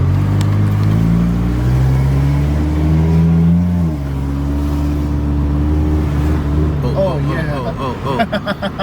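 A lowered Acura TSX on Swift springs drives around the block, its engine note climbing in pitch, dropping, then rising again, followed by a lighter idle while excited voices talk over it near the end.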